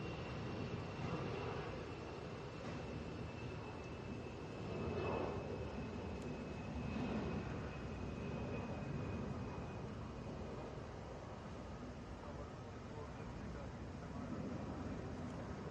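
An airliner takes off from Atlanta's airport bound for Columbus, giving a steady, broad jet roar that swells slightly and holds through the whole stretch, with someone talking over it.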